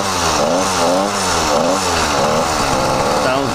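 A newly fitted YD100 motorized bicycle engine runs steadily, close and loud, with a buzzing two-stroke tone that idles low and wavers slightly in pitch throughout, no talk over it.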